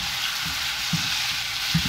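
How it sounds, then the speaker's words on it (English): Shrimp frying in a wok just after Sichuan pepper wine is added, giving a steady loud sizzle with a couple of soft stirring knocks beneath it, close up and without voices. "一落花椒酒就喳喳聲啦。"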